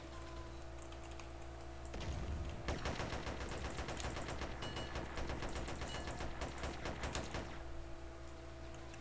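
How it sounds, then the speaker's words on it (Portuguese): Rapid automatic gunfire crackles in dense bursts for several seconds in the GTA San Andreas Multiplayer (SA-MP) game, fairly loud over a steady background hum, before tapering off. "Onde é que tá vindo esses tiros?"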